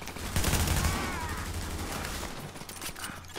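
A robot enemy fires a shotgun in Tom Clancy's The Division, with a burst of heavy blasts early on that fades into a lower rumble and scattered later shots.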